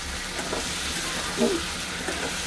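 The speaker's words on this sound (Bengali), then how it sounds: "এটাকে এবার ভালো করে কষাবো, যতক্ষণ মশলার থেকে ঝাঁজ উঠছে না ততক্ষণ এটা কষাবো।" Spice masala with tomato and turmeric sautéing in a pan, a steady low sizzle with a brief stirring scrape near the middle, quiet and continuous with no talk.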